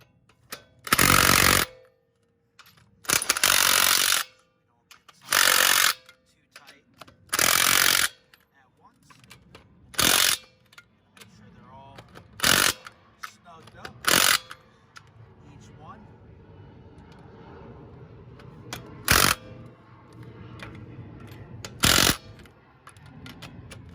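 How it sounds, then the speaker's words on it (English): An impact wrench runs brake caliper bolts in on a 2003–2009 Toyota 4Runner, firing about nine loud, close, hammering rattles. The first four are long bursts in quick succession, then shorter ones come spaced apart with quieter garage noise between. "switch over to my impact and run these in"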